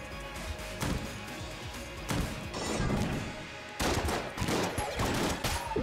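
Shotgun blasts in Enter the Gungeon: several heavy booming shots spaced a second or two apart, each followed by crunchy impact noise over game sounds.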